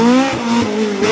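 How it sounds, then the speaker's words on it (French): A Renault Clio 1 Maxi rally car at a cold rally stage roars loudly past at close range, its engine note bending in pitch as it passes, with a brief tyre squeal. "C'est une Clio 1 Maxi qui va arriver, c'est Laurent Sénécal."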